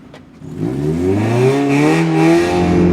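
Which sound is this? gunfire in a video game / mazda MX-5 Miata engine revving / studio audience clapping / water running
mazda MX-5 Miata engine revving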